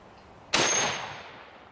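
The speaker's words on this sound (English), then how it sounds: "It's my Henry 4570 Government. Shoots this huge 400 grain bullet." A Henry 45-70 Government rifle fires a 400 grain bullet into a titanium target: one sharp, loud gunshot that cracks out and then decays in a long ringing tail over about a second.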